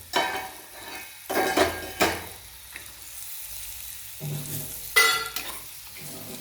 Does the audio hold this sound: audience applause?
no